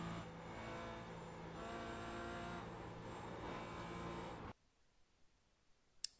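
A Porsche Cayman GT4 on the Mosport race track holds a steady loud engine note under wide-open throttle, then cuts off abruptly into near silence, with a single sharp click near the end.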